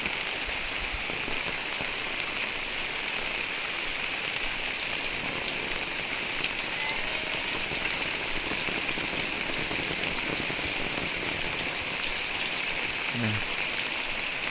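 Heavy rain pours down on a village, a dense, steady hiss of drops on surfaces that fills the air at an even, loud level throughout.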